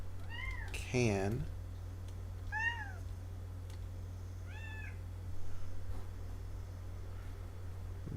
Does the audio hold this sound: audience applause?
no